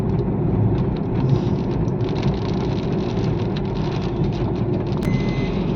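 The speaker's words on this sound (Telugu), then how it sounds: "ఇదిగోండి వర్షం అయితే స్టార్ట్ అయిపోయింది" Rain starting to fall near a beach makes a steady patter with a low rumbling background and a few sharper drop ticks, continuous and moderately loud, with no voices.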